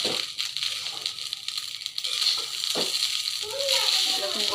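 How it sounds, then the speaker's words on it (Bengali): Leftover broken rice sizzles and fries as it is reheated in a pan, a steady hissing crackle with occasional stirring scrapes, close and continuous. "তো এই যে খুদের ভাত গরম করতেছি"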